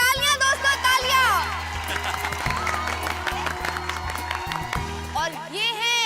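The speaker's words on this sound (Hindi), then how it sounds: "तालियां दोस्तों, तालियां।" An audience claps and cheers at a New Year party with comedy characters, steady applause and crowd noise running beneath loud music and a voice speaking over it throughout.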